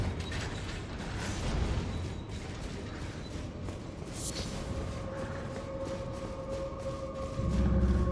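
A heavy door mechanism in the Elden Ring video game grinds and creaks steadily through a catacomb, with a continuous rumbling, ratcheting drone and a louder surge at the end, no voices.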